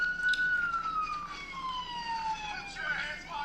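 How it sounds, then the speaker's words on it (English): A police car siren left running during a roadside arrest wails steadily in a slowly falling tone, fairly loud and near, with faint background activity and no clear speech over it. "And he left his siren on, and I don't know how either of them are hearing each other."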